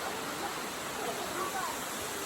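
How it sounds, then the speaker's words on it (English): A waterfall by a lake, its steady, dense roar of falling water continuous and fairly even, heard alone at moderate loudness. "Great waterfall."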